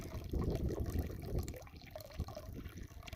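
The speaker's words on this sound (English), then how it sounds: "it's the sound of the water from the first tank dripping into the second that made me stay" Water from one tank dripping into a second tank, splashing and trickling steadily, a continuous liquid patter with occasional drips, close by and moderately loud.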